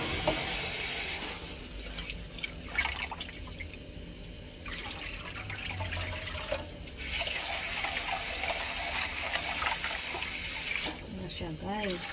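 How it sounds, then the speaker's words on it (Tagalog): Rice being washed in a kitchen sink under a running tap, water splashing and pouring steadily with brief pauses, loud and close, with a voice speaking at times over it. "Hugasan ko yung rice."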